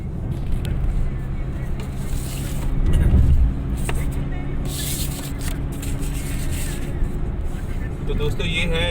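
Car cruising along the Noida–Greater Noida Expressway on a road trip from Delhi, with steady road and engine rumble throughout, a brief louder whoosh partway through, and people talking inside the car.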